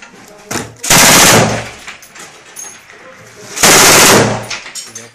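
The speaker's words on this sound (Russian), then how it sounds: "Это наш командир стреляет." Two loud, close bursts of machine gun fire on a battlefield position near Donetsk, each lasting about a second, separated by a short gap with faint background noise.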